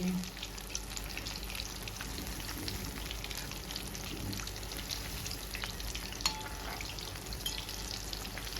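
Chicken pakoras sizzle steadily in oil in a kadhai over a medium gas flame, a continuous close crackling fry with scattered pops and occasional light stirring, no talk.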